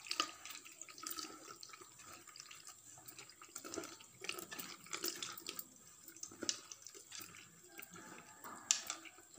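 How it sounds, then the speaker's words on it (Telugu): Water is added to tamarind in a strainer while it is mixed, giving faint, uneven splashes, drips and trickles with soft handling clatter and no talk. "దీంట్లోకి కొన్ని కొన్ని వాటర్ యాడ్ చేస్తూ మళ్ళీ మిక్స్ చేసుకోవాలి."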